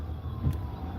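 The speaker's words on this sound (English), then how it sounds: "Where is the ambulance at?" An ambulance siren wails steadily, its tone holding fairly level through the whole brief moment, with a low rumble beneath it.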